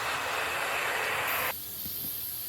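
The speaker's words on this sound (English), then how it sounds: "We're going to give it a quick manual release" An Instant Pot's valve vents steam during a quick manual pressure release, giving a loud, close hiss that cuts off abruptly partway through. A fainter airy hiss lingers after it.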